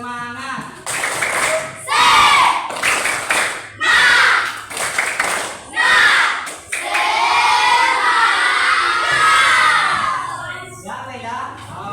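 Schoolchildren in an elementary classroom perform a rhythmic spirit clap chant, loud bursts of clapping and shouted voices in repeated beats, ending in a sustained cheer.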